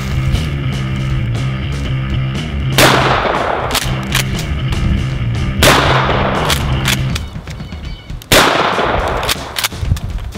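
Outdoors, 12 gauge shotgun slugs strike an AR500 steel body armor plate, heard as several loud, sharp blasts with ringing impacts at irregular intervals.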